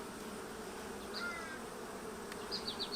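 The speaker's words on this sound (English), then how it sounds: "Lots of bees in the honey super." Honey bees buzz in a hive's honey super, a soft, continuous hum with a few brief louder passes of individual bees near the end.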